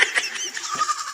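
A large goat at a livestock purchase gives a short, nasal bleat, fairly close and clear, with a second wavering call following within about a second.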